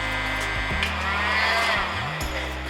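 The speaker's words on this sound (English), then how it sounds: "If this heat gun goes to level 2," A heat gun runs at its level 2 setting while connected to an off-grid power unit, giving a steady, close blowing whir with low electrical hum and a brief pitch shift near the end.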